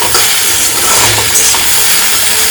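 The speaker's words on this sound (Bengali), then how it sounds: "এখানে ভেন্ডি ভাজা হয়ে গেল, অল্প তেলে ভাজছি" Okra (bhindi) frying in a little oil in a home kitchen gives a constant, fairly loud hiss and soft crackle with no one speaking.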